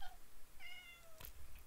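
A cat meows several times in the video game Minecraft, thin and fairly faint, with a high chime near the end and no voices.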